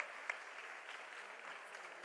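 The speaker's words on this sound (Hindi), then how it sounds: "जोरदार तालियों से स्वागत करें।" An audience at a teacher-honouring ceremony in Delhi gives a steady round of applause, many hands clapping evenly at a fairly faint level, with one sharper clap near the start.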